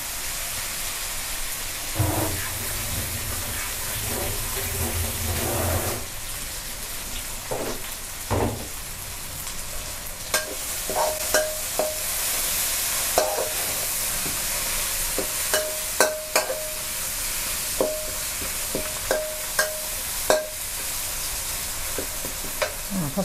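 Chillies stir-fry in a hot pan with a continuous close sizzle, broken by repeated sharp spatula scrapes and clacks against the metal, no voices.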